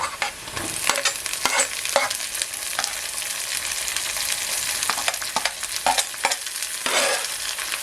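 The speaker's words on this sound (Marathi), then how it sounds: "कांदा चांगला आता फ्राय झालाय" Onions fry in a pan while being stirred, a continuous loud sizzle with frequent scraping strokes of a spatula against the metal, close and steady with no talking.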